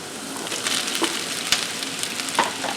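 Smoked pork sausage sizzling in a pan with bacon, onions and green peppers for feijoada, a steady close frying hiss with a few faint clicks and stirring sounds, no voices.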